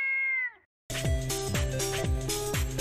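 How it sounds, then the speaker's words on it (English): A cartoon cat in an SMG4 animation gives one short, clear meow that drops in pitch, then falls silent before loud, rhythmic music begins. "Have you been feeding my cat?"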